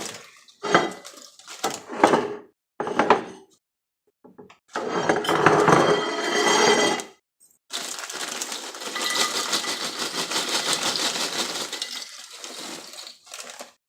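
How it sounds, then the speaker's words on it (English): Crinkly rattling of Bugles corn snacks tumbling from a bag onto a plate, several short bursts followed by a long continuous clattering pour, close and fairly loud. "So I have a bag of Bugles. I'll put them on a plate."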